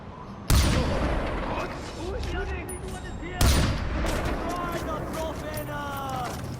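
Gunfire in the first-person shooter Far Cry 4, with two sharp loud shots at roughly half a second and three and a half seconds, each followed by a busy ringing decay, over steady game ambience and a speaking voice.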